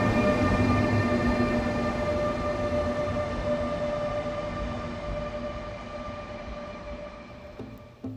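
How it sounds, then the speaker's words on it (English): A passenger train with a cab car passes by, loud at first with a steady tonal whine over a broad rumble. The sound fades gradually over several seconds, and a brief clunk comes near the end. "My favorite thing about these trains, though, the noise they make."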